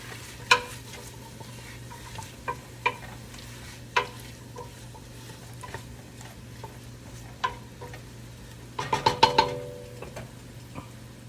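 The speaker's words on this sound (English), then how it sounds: "And this is 2 potatoes diced up, and in they go. Stirring around." Diced potatoes tumble into a pot of sausage and kale soup with garlic and get stirred, making sparse scraping clicks and knocks over a low steady hum, then a quick flurry of clattering stirs near the end.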